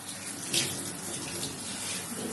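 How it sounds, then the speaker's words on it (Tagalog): Tap water runs steadily into a baby bathtub during washing, giving a close, continuous splashing hiss with a brief louder splash near the start. "Palihugasan ko muna, guys, itong bathtub bago siya maligo."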